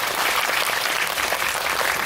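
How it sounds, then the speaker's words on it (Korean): A crowd at a talk event for the Korean film Another Child (Miseongnyeon) breaks into applause: a close, loud, continuous wash of many hands clapping without a break. "박수 부탁드립니다"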